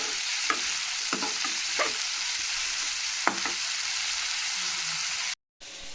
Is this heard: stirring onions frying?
yes